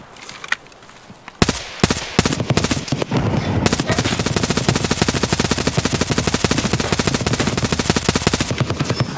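Dense automatic gunfire from Escape from Tarkov, loud, rapid bursts that start sparse then roll into a sustained, near-continuous rattle of shots with a few heavier blasts, filling the whole stretch.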